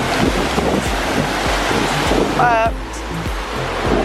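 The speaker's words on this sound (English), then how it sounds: "And the waves are pretty high because of all the storms." Storm-raised high ocean waves rush and churn at a beach, loud and close under heavy wind buffeting the microphone, with a brief voice cutting in midway.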